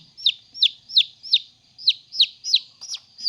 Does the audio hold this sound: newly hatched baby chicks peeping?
yes